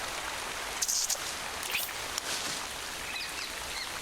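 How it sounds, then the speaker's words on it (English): Steady rain falling in a forest habitat of lion-tailed macaques, a dense, even hiss of drops with a few faint bird calls mixed in. "The rain is a welcome relief."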